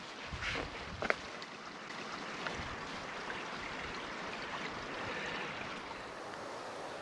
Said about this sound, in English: Beautiful creek down there. Water just rolling over.